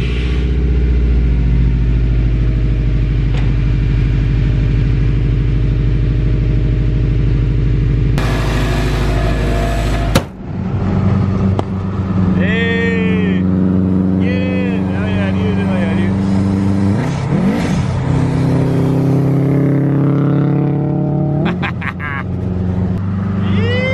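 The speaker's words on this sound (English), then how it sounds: "we're going for a test drive" A Subaru WRX engine hums and rumbles loudly through a test drive after an EVAP hose repair, its pitch rising and falling with shifts and throttle changes, while a voice talks over it.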